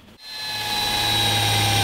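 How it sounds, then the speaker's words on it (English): A power drill spins up and bores through a camper van roof from the inside, rising from a brief start into a loud, steady high-pitched whine that holds to the end. "drill a hole from the inside out"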